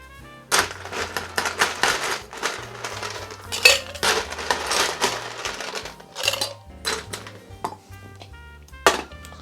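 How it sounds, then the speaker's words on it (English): Ice cubes rattle and clatter into a cocktail shaker holding sweetener and jalapeno slices for a low-carb pineapple jalapeno margarita, a dense run of close, bright clinks and knocks with short pauses and a final sharp clunk. "So let's add some ice to this shaker."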